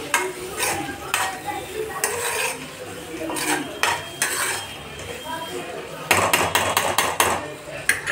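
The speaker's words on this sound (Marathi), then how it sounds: "याला पण छान असं मिक्स करून घेऊ." A spoon stirs chopped lemon pickle with salt in a metal pot, producing repeated sharp clinks and scrapes against the sides, irregular at first then a rapid burst of knocks toward the end, close and clear with no talking.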